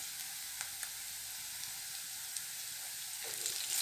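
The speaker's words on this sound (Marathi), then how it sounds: "कांदा छान लाल परतून झालेला आहे मी आता त्यात थोडी कोथिंबीर घालणार आहे" Onion frying in oil as coriander is added, producing a soft, steady sizzle with a few faint spatula ticks, rising slightly louder at the end when the leaves hit the oil.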